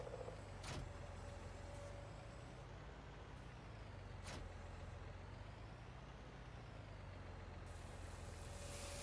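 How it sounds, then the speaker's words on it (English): Continuous low rumbling rush of sugar beets dumping from a trailer in Farming Simulator 19, steady and faint throughout, with a couple of brief sharp hissing bursts like air brakes. "Sugar beets dumping in."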